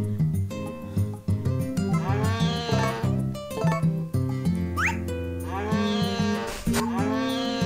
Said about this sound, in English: Did the horse just moo?